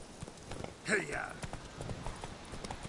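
Roach's hooves clop in The Witcher 3, a quiet rhythmic patter under a brief spoken voice and faint game ambience.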